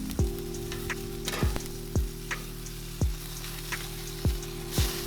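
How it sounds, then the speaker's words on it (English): A sous vide chuck pot roast sears directly on a hot grill, giving a steady sizzle under a low hum, with a handful of sharp knocks and clanks spaced irregularly throughout. "I like to add it to the grill directly for about 30 seconds per side"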